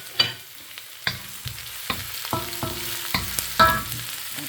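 Onion sizzles in a hot pan for valenciana, with a steady frying hiss broken by sharp clicks and scrapes of a utensil stirring against the metal, close and moderately loud.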